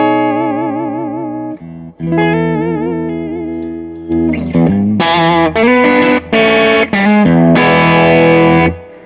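Loud, distorted electric guitar on a Fender Stratocaster playing sustained notes and chords that ring out with heavy effects, brief gaps between phrases, and no voices.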